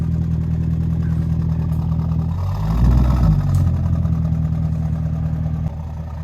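Mercedes-Benz ML63 AMG engine firing up, a deep loud idle rumble that swells briefly mid-clip, then settles back into a steady low burble.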